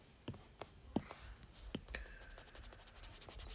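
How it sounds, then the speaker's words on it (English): Someone erasing handwriting from a board in a math lesson: a few sharp taps and scrapes, then a rapid run of rhythmic rubbing strokes, close and fairly quiet. "let me go ahead and erase here"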